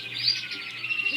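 Exhibition greenfinches in a canary room, a continuous busy chorus of overlapping chirps and twitters at moderate volume.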